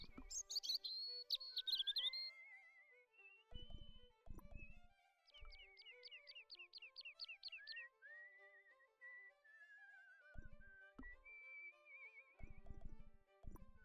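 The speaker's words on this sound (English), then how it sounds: "all I heard were the birds chirping in the game" Birds chirp and whistle in the Broken Sword: Shadow of the Templars game, clear separate trills and warbling phrases, interspersed with brief percussive knocks and short musical notes.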